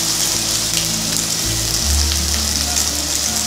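Potatoes frying in a pan sizzle loudly and steadily up close, a dense crackling hiss that runs unbroken from start to finish.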